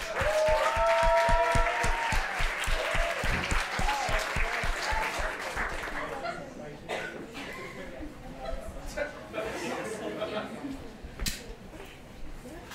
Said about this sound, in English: Let's get a warm round of applause for Des.